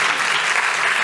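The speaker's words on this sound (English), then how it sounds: "A round of applause for these two" Dense, loud applause from a conference audience, a continuous even roar of many hands clapping at once.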